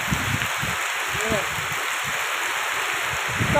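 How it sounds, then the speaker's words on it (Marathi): Heavy monsoon rain pours down in a steady, loud hiss of water falling everywhere, a constant wash with no pauses while a voice speaks low underneath. "आता इतका खतरनाक पाऊस चालू आहे बा"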